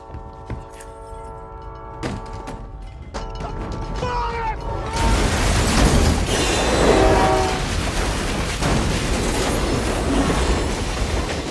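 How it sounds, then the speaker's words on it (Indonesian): A train approaches and thunders past on the rails, swelling from earlier tones and clanks into a loud, sustained rumble with clattering wheels. "dia pun terbangun karena mendengar suara kereta api"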